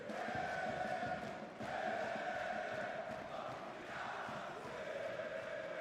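Crowd at a CS:GO esports match, IEM Rio 2022, a steady roar of cheering and chanting that holds throughout at moderate loudness with slight swells.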